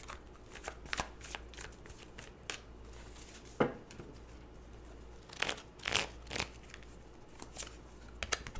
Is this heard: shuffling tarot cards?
yes